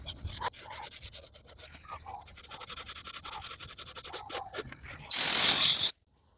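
Sandpaper rubs hard on cured body filler over a car fender, fast close rasping strokes in an uneven rhythm that end in a louder, harsher burst of scraping before stopping abruptly.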